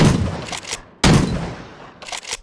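Shotgun blasts in the Vietnam-era shooter Rising Storm Vietnam: two loud, close booming shots about a second apart, each followed by a short mechanical clack of cycling.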